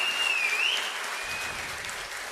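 An audience applauds at a book launch, a dense, steady clatter of many hands clapping throughout, with a thin whistle rising briefly near the start.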